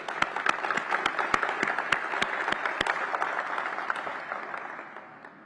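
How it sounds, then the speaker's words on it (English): An audience at a ribbon-cutting grand opening gives the mayor a round of applause, steady crowd clapping with distinct sharp claps up front that fades gradually toward the end. "let's give the mayor another round of applause"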